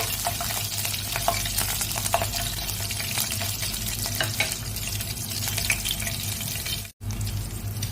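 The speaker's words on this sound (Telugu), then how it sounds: "పచ్చిమిరపకాయలు అయితే కొద్దిగా అయితే మనం వేపుకోవాలండి." Green chillies frying in a pan for tomato rice: a steady, close bed of hissing and sizzling runs throughout with light scraping from stirring, broken by a brief dropout near the end.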